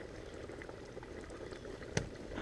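Deer fat bubbling in a pot while being rendered into tallow, a steady low simmering burble with a single sharp knock near the end, no voices.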